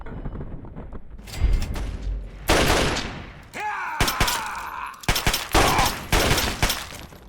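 Gunfire in the video game Fallout 3, with loud sharp bursts of shots in quick clusters, some followed by ringing metallic tails, repeating across the clip with short gaps between volleys.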